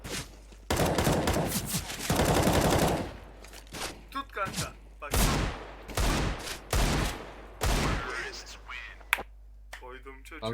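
Gunfire rings out in a 1v1 video game match, sharp bursts and single shots clustered in quick rapid groups, with people talking between and over the shots.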